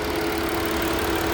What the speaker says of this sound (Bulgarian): Двигател работи повече от перфектно. Няма странични шумове.